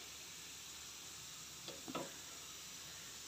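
Chopped garlic fried red in hot oil is tipped into cooked whole masoor dal, giving a brief hissing sizzle in two quick bursts over steady faint kitchen background, with no voices.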